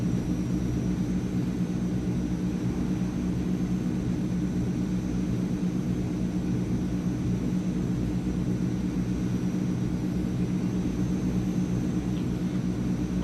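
Inside the simulated Transall C160 cargo plane in Microsoft Flight Simulator, twin turboprop engines drone in a deep, unbroken rumble with a steady propeller hum, loud and constant from start to finish, with no talk.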